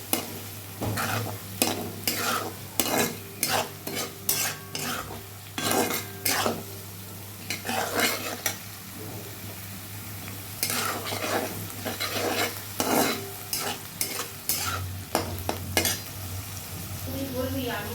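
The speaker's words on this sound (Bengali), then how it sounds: "আবার নুন দিয়ে একটু নাড়াচাড়া করবো।" Chicken with salt and onions is stirred in a pan for a coriander chicken dish: repeated scraping strokes of a utensil against the pan over a soft sizzle, close and fairly loud, with pauses between bursts.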